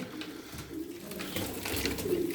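Pigeons lifted off their eggs in a breeding loft coo in low, soft murmurs, fairly close and steady, with a faint rustle around them.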